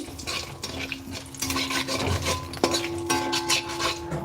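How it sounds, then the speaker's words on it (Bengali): Cumin seeds and dry red chilli crackling in hot oil, a close busy sizzle with rubbing, scraping stirs and a faint steady hum underneath. "তো আমি এবার তেলের মধ্যে একটু জিরে ফোড়ন আর একটু শুকনো লঙ্কা দিয়ে দিচ্ছি"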